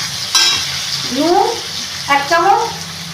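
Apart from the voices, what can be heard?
chopped chilli, onion and tomato frying and stirred in oil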